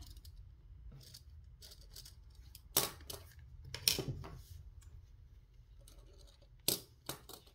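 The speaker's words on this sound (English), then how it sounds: "I'm going to go ahead and cut this one off" Scissors cutting fabric for stitching, a few crisp snips in short bursts over a quiet background, close and faint, with no speech.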